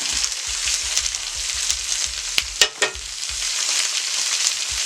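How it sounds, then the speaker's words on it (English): Peppers, onions and Italian sausage sautéing in a pan with sauerkraut heating nearby: a steady bright sizzle throughout, with a few sharper crackles and brief stirring clatters midway. "My peppers and onions. Oh, they're sauteing down really nicely here."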